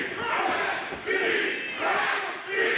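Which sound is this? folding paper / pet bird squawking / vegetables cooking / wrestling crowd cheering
wrestling crowd cheering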